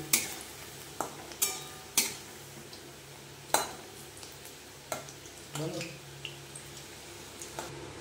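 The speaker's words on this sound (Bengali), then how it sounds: "বন্ধুরা ফুলকপিটা ভাজা হয়ে গেছে, এবার তেল ছেঁকে তুলে নেবে।" Fried cauliflower is lifted out of hot oil with sharp metallic clinks of a utensil against the pan, spaced roughly once a second, over a faint background sizzle.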